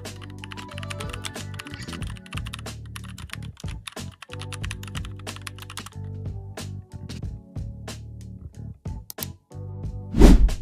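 Typing a prompt on a computer keyboard: a steady, close run of rapid key clicks with brief pauses, ending in a louder keystroke.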